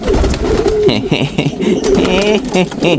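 Several pigeons cooing close up, overlapping soft throaty calls in irregular bursts, with flapping and shuffling noises between them.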